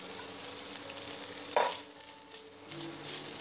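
Chopped mushrooms and squeezed soy granules sizzle quietly in a pan, a soft steady frying hiss with one brief scrape of stirring in the middle.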